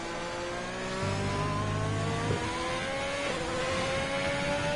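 An Alfa Romeo race car engine on a hot lap at Monza in a racing video game, a steady high-revving whine whose pitch climbs, with a brief shift break, heard alone and close.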